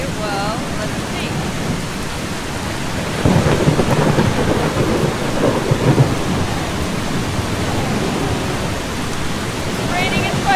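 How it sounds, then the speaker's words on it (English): Rain and thunder inside a house in the video game Eastshade: a loud, constant downpour hiss with a deep thunder rumble swelling in the middle, steady and enveloping throughout. "It's raining inside the house."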